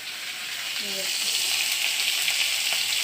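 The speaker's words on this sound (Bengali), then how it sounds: "একদিকে ভাত হচ্ছে আর একদিকে হচ্ছে মাছ ভাজা।" Fish frying in a pan on a gas stove, a loud, steady close-up sizzle and hiss throughout, with brief faint voices in the background near the start.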